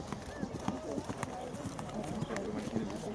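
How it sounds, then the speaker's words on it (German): A Haflinger horse cantering in a dressage arena at a tournament: soft, rhythmic hoofbeats in steady groups, moderately distant, with a voice talking over them. "Galoppsprünge verlängern."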